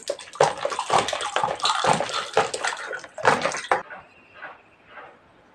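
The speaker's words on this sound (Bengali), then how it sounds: "আমি এখানে এবার পানিটা পাইল করে দেবো।" Water poured from a glass into a mango drink being mixed, a close, continuous splashing gush for several seconds that breaks off into a few fainter trickles and drips.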